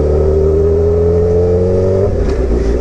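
A used Yamaha R1 sport motorcycle with an aftermarket exhaust and a Power Commander, in need of some work, is ridden along the road: a loud, steady engine drone climbs in pitch, then drops sharply at a gear shift.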